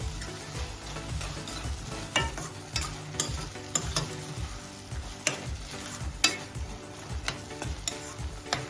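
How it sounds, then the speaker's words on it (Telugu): Carrot halwa (gajar ka halwa) stirred with ghee in a pan over a low flame: close, rhythmic scraping and stirring strokes over a soft, steady sizzle, with no voices. "గీని యాడ్ చేసుకుంటూ లో ఫ్లేమ్లో ఇలా మిక్స్ చేసుకుంటూ ఉండాలి."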